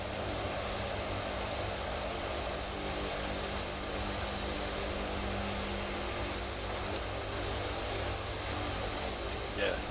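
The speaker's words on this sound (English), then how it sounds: "with those jet engines you got" The steady drone of a C-130 Hercules's engines runs through a flight simulator, a smooth sustained hum with a faint high whine above it, and people talk casually over it.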